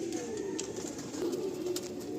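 Madrasi breeder pigeons coo in a low, continuous murmur as they file out of their loft one by one, close by with faint clatter around them.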